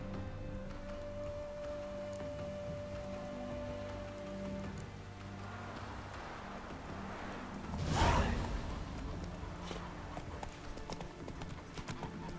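Steady rain in The Witcher 3 video game patters throughout with a horse's hoofbeats clip-clopping along, and a brief whoosh sweeps past midway; fairly quiet overall.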